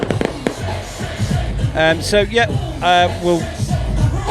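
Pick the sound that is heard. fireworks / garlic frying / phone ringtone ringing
fireworks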